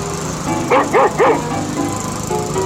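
A dog named Rover barks three times in quick succession, loud and close, with a lawn mower running in the background.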